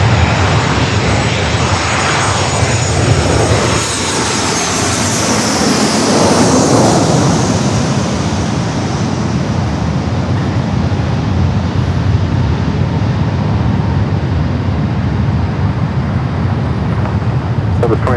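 A fixed-wing jet roars loudly and continuously at Los Angeles LAX airport, a broad sustained engine rush that shifts in pitch as the aircraft passes close by.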